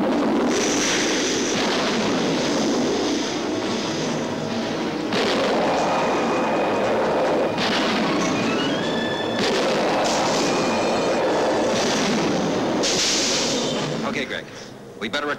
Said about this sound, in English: We better return their fire. We can't take too much of this punishment.